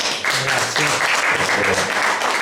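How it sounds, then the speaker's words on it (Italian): Dense crowd applause, many hands clapping steadily and loudly throughout without pause. "Io inviterei a fare un applauso a Nicolò."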